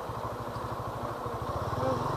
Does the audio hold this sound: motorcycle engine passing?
yes